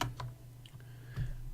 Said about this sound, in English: we're going to do some typing